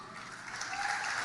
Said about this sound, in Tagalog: may mga palakpak pa yan